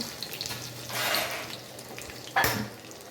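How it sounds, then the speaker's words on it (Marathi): Soft crackling sizzle of mustard seeds, garlic and cumin frying in hot oil, with a brief louder hiss of a splash near the end; no talking. "तेलामध्ये आता मोहरी लसूण जिरे फोडणी करतो आहे आपण"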